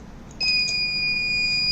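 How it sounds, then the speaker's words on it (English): An electronic buzzer on an access-control system flags unauthorized tag access, starting after a short quiet moment with a steady, high, piercing alert tone held to the end. "So buzzer alerts along with red delay indication"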